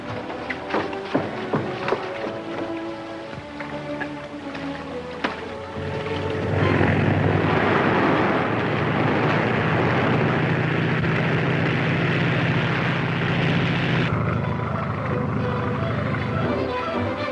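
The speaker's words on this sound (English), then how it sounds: "There's a plane coming and low." A low-flying airplane approaches over the sea, its steady engine drone swelling and holding loud beneath orchestral music and brief voices.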